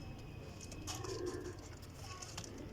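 Pigeons coo softly in a low, throaty, continuous murmur, faint and close, with no clear talking.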